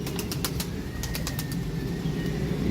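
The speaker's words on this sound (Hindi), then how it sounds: "माशाल्लाह जी बहुत ही आला कबूतर है" Pigeon cooing softly, muffled and fairly distant under a steady low background rumble, with faint short chirps and a brief rustle of wings.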